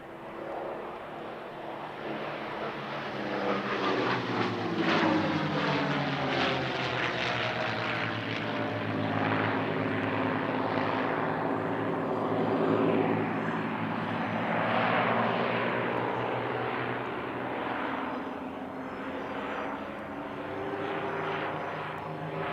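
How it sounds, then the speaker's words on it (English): Three rarely seen P-51D Mustang warplanes, including Berlin Express and the Hun Hunter, fly at the Italian Air Force Centenary Airshow, their piston-propeller engines making a loud, continuous drone that shifts in pitch as they pass, with no talk. "today they're flying a trio of very rarely seen Mustangs based across Europe"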